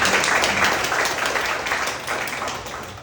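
Applause from an audience at a Democratic Party Jeju branch core members' meeting, a steady dense wash of clapping that stays loud throughout and fades slightly toward the end.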